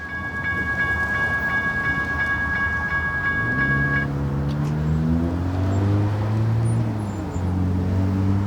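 Freight train rolling past on Colorado's Front Range, a steady loud rumble of railcars with a sustained high tone in the first half, then lower groaning, squealing wheel tones as the cars continue by.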